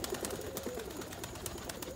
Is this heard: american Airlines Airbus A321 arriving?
no